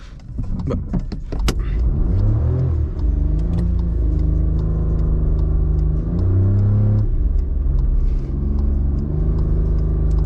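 A 1.0-litre car engine revs hard and strains reversing up a steep hill, its clutch burning out as it fails to climb, pitch rising and falling in long sustained pulls, loud and close with no talking.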